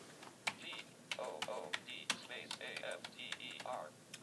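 Keys clatter on a computer keyboard while typing into a Notepad window, with quick irregular taps and brief electronic tones between them, close and fairly quiet.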